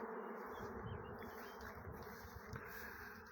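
A honeybee swarm that has just left the hive, a dense, continuous buzzing hum of many bees close by, steady and fairly loud with no talk.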